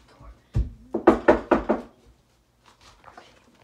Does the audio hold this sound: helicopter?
no